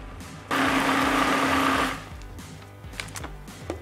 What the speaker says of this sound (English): Then turn on the blender and watch it all come together.